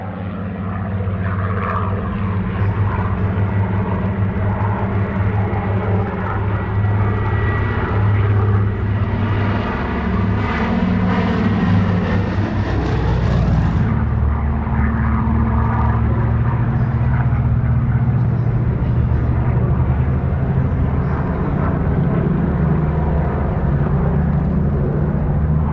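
A Consolidated Catalina flying boat passing at an airshow, its piston engines giving a loud, steady droning roar that holds for the whole stretch and swells slightly toward the middle, with no voices.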